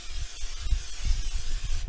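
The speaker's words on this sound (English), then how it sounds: "just spray the pan with a little bit of spray" A short, steady hiss of aerosol cooking spray sprayed onto a pan, fairly faint, over low rumbling background noise.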